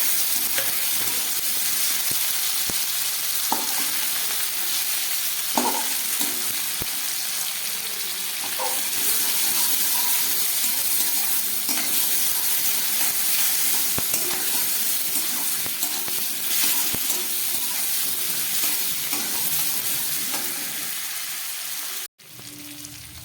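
Boiled potatoes going into tomatoes and capsicum frying in a pan for vegetarian ghugni, a sustained loud sizzle with scattered clicks and stirring scrapes that cuts off sharply near the end.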